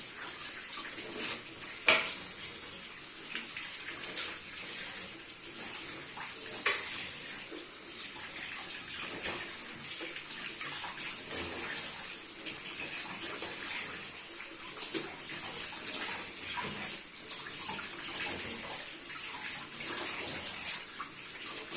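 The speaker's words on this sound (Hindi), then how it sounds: "चिकन को अच्छी तरह मल के धोएंगे।" Raw chicken is rubbed and washed under running kitchen water, a continuous soft splashing flow with a couple of sharper knocks and clatters along the way.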